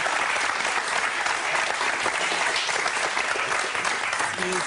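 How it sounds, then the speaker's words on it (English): A comedy show audience gives a full round of applause for two performers, a steady, dense wash of clapping that stays loud and even from start to finish. "let's give them a big round of applause, our 2 students in the Dick Wilson School of Comedy"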